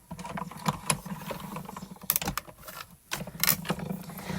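A hand-cranked die-cutting machine pulling stacked plates through with Spellbinders delicate butterfly dies, giving a close, continuous grinding, ratcheting churn with irregular clicks and knocks over several seconds, no talk.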